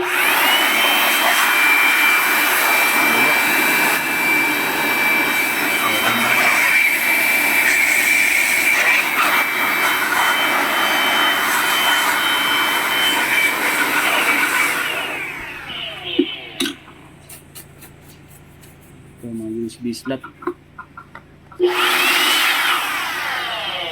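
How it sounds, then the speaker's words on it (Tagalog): A loud, steady rushing roar of an air blower blowing dust out of a computer CPU, running continuously for most of the clip, then cutting out into quieter clicks and brief bursts before resuming. "The best talaga kung meron kang blower na katulad nito. Buga talaga yung mga gabok."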